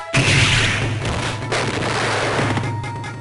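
Haohmaru's weapon-breaking special strike in the Samurai Shodown 2 fighting game lands as a loud, sharp crash with a bright burst that rings on and decays over a few seconds, with no voices.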